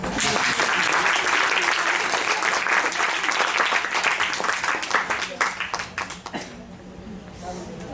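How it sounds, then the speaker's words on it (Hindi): Audience applause at a Hindi poetry recital (kavi sammelan) in Mumbai, a sustained dense round of clapping that thins into scattered claps and fades toward the end, with some voices mixed in. "आप सभी की तालियां कम है।"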